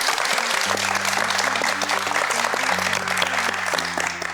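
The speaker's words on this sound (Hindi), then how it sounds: "क्या तालियां यार आप लोग बजाते हो" A studio audience at a talk show claps warmly and continuously, loud dense applause from many people with a steady musical tone sustained underneath.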